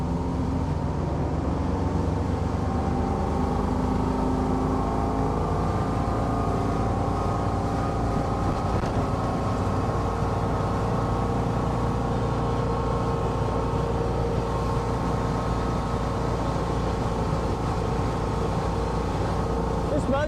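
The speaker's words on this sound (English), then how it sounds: "Boat just likes to run 40 miles an hour." A Four Winns SL 262 boat cruises at about 40 mph on calm, flat water, its engine droning as a steady, loud hum with wind and hull noise, unchanging throughout.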